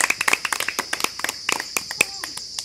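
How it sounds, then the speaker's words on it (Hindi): Rapid hand clapping from a crowd cheering on a one-minute running race, a fast irregular patter of sharp claps with a faint voice beneath. "तालियां बजाते रहो"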